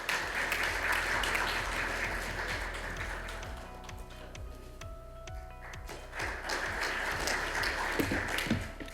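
Applause welcoming a speaker in a hotel ballroom at the opening ceremony of a Korean political science association's summer conference. The clapping dies away after about three seconds, then swells again, over a steady low ticking pulse.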